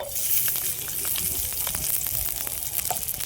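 Garlic cloves and chopped onion fry in hot oil after two chillies have been fried, making a close, steady crackling sizzle with scattered pops and light spoon scrapes throughout.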